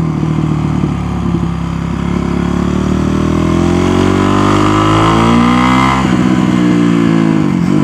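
A motorcycle engine revs while riding. The steady, close drone rises and falls in pitch as the throttle changes, and no voices are heard.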